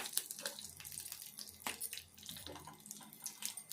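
Running tap water splashes steadily while green chilies are rinsed under it, close and continuous with small bursts of splashing.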